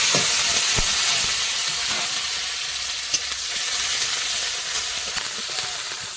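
Chopped onion and green chili sizzle in hot oil with whole garam masala, a steady close frying hiss with a few faint clicks, no voices.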